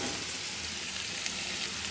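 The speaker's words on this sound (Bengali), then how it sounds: "একটু কষি নেব" Potatoes and paneer fry in a pan, giving a steady dense sizzle that is faint and continuous throughout, with no talking.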